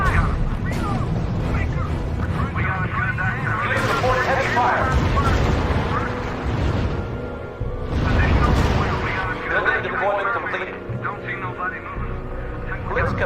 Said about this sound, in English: Unit reports heavy fire.